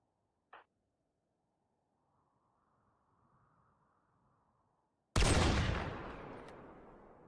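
A single sharp shot, a stretch of near silence with a faint rumble, then a loud burst of gunfire that rings out and fades, from the video game RimWorld.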